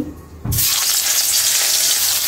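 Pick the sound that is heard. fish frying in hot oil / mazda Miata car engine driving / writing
fish frying in hot oil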